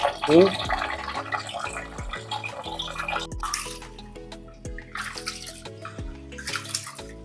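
Water splashes and sloshes as rice is rinsed by hand in purified water, with soft plinking music playing in the background.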